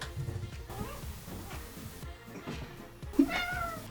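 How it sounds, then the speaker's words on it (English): A cat meows several times in short plaintive calls, with one sharper, louder yowl near the end, indoors and close by, with no talking. "You meow, you get picked up."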